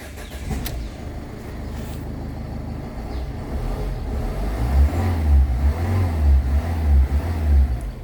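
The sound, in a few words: Ford Aspire diesel car engine starting and revving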